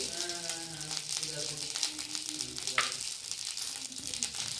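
Spices sizzle steadily in hot oil in a pan as they are tempered for a steamed egg snack, a close, continuous frying hiss with a faint voice-like tone in the background.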